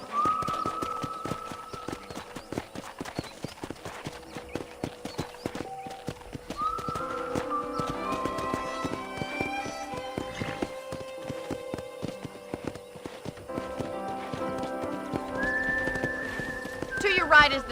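Horse hoofbeats clip-clop in a steady riding rhythm in Red Dead Redemption, accompanied by whinnies and whistling, with voices talking over them throughout.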